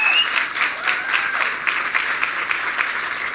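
An audience at an EdTech podcast festival in London gives a round of applause. The clapping is continuous and even, with many hands.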